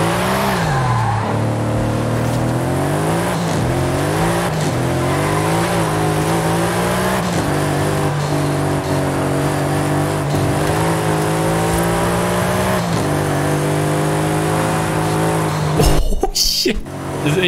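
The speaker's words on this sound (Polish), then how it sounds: "zmienił nam się dźwięk auta. Wiadomo, inny wydech, dodatkowe części." Modified car with an aftermarket exhaust and extra parts in a racing video game, its engine droning loudly and steadily as revs rise and fall through corners, ending in a brief skid or crash burst.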